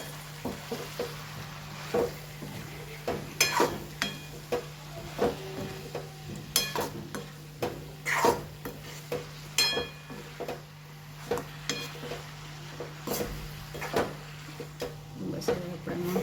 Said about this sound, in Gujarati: સરસ મિક્સ કરી દઈએ